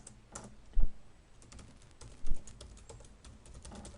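Typing on a computer keyboard, a run of quick, light key clicks close by with a couple of heavier thumps, like the space bar or enter key, and no talking.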